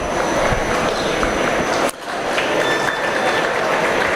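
Crowd applause for a pair of gilts in the show ring at a swine show, a steady dense wash of clapping that dips briefly near the middle and then carries on at the same level.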